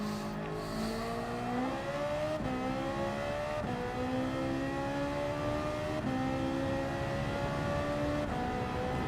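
A Ferrari in Gran Turismo 7 revs hard through the gears, its engine pitch climbing repeatedly and dropping at each upshift, loud and continuous with no talk over it.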